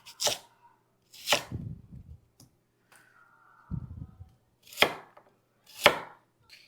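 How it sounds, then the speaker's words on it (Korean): A knife slices radish thinly on a cutting board for kimchi, with a handful of sharp, separate cuts spaced unevenly, each followed by a short scrape or rustle, close and moderately loud. "근데 무는 깍두기 할 때보다 얇게 썰을게요"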